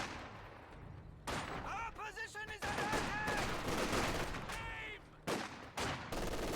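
M42 suppressing fire in the strategy video game Company of Heroes 2, rattling in dense bursts over a loud, continuous battle mix with other gunfire and effects.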